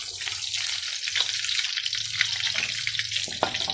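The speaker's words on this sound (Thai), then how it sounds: "เราทอดปลา" Fish frying in hot oil in a home kitchen, a continuous dense sizzle and crackle with no talking.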